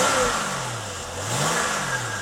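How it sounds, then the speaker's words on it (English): A V6 car engine revs up and eases off twice in smooth swells, its pitch climbing and falling each time. It is close and loud, with no talk over it. "Engine sounds nice."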